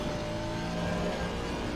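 Racing car engine in Live for Speed, a steady, close, throaty drone holding a fairly constant pitch with no voices over it.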